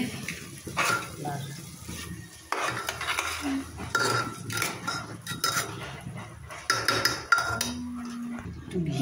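A spoon stirs pulao ingredients in a metal pot, making frequent scraping and clinking against the sides, close and busy, with some faint talk in the background.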